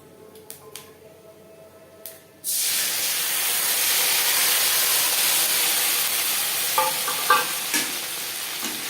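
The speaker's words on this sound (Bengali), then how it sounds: "মশলার কাঁচা গন্ধ যাওয়া পর্যন্ত ভালো করে কষাবো" Ginger paste and green chili paste hit hot oil over panch phoron and bay leaf, bursting into a loud, steady sizzle after a quiet start, with occasional stirring clatter near the end.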